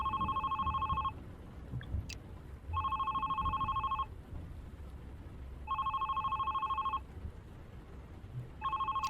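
A telephone rings in The Red Strings Club video game: four evenly spaced electronic double-tone rings, each about a second long, with short pauses between them, heard clearly over a low background hum and no talking.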